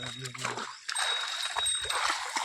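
Splashing and sloshing of water as a buffalo wades into a river, close by, after a brief voice at the start.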